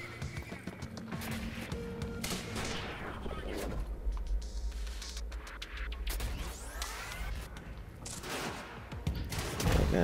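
Carbine gunfire in Quantum Break: bursts of shots and sharp impacts amid busy, dense combat noise and other effects, close and fairly loud throughout.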